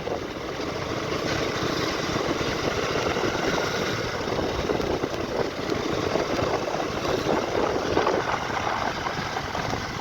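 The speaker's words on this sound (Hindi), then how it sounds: "एंड अभी मैं क्लच प्रेस करके चला रहा हूँ क्योंकि मैं कम RPM पे चला रहा हूँ बाइक को अभी।" A KTM Duke 250 gen 3 motorcycle rolls along a rough road at low RPM with the clutch pulled in, giving a continuous, dense engine drone mixed with wind rush that stays loud and steady throughout.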